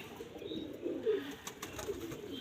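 Kept pigeons coo softly in low, rolling murmurs, faint and close, with a few light clicks and rustles around them and no voices.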